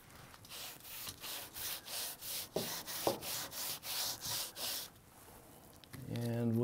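Wood for an indoor model airplane sanded with 150 grit sandpaper: about a dozen regular back-and-forth rubbing strokes, close and fairly quiet, ending in a brief pause and another noise.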